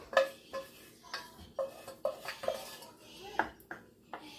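Spoon scraping and tapping against a dish while clearing out the last of a meatless lasagna roll filling, a series of close, irregular metallic clinks and scrapes.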